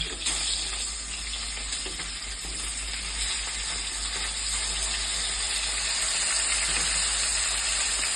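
Fish frying in a pan with oil, a steady loud hiss and crackling sizzle that runs unbroken and close up, with no talking over it.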